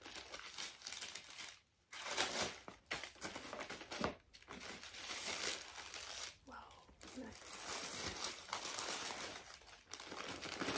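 Crinkly packaging from an Amazon purchase rustles and crackles as it is unwrapped, close by, in bursts with short pauses, with speech mixed in.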